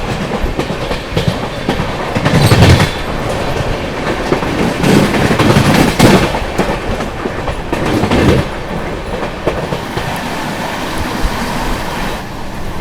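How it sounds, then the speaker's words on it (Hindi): The Amritsar Howrah Mail rushes past in the opposite direction, heard from aboard the Shri Shakti AC superfast express. A loud, close rumble of wheels and rattling carriages runs throughout, with rhythmic clickety-clack and surging gusts of wind. "सामने से आती हुई अमृतसर हावड़ा मेल।"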